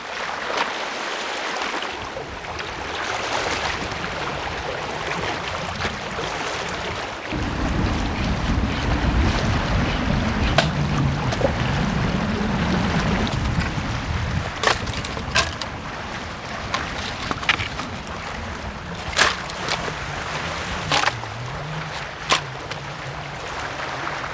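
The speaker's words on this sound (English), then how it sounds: "Hear the waves and the wind." Wind and waves on a frozen winter seaside by an island, a constant roaring gust noise that swells louder after the first seconds, with scattered sharp crackles and bumps from the wind buffeting.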